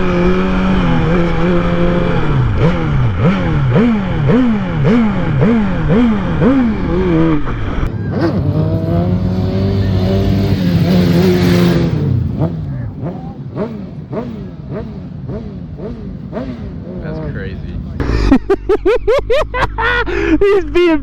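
A BMW M1000RR sport motorcycle revs hard through repeated rising and falling engine sweeps during wheelie runs, loud and close, then drops to idle and rough blips before a final sharp burst. Voices are faintly heard.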